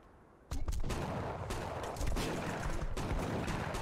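Dense gunfire from the 25 To Life video game, starting abruptly and continuing as a loud, steady barrage of overlapping shots with several sharper bursts standing out.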